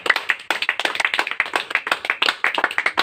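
Several people clap hands close by in a fast, uneven rhythm, crisp sharp claps with a brief break near the start, no talking over them.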